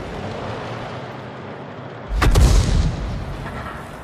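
A single heavy artillery boom from an M44 self-propelled gun in a tank video game, one loud close blast with a rumbling tail fading over a couple of seconds against quiet ambience.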